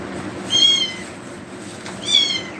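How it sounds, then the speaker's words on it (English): A cat meows twice, close and clear, with each meow a short rising cry separated by a quiet pause over a low background hum. "Yeah, so you can hear the cat up"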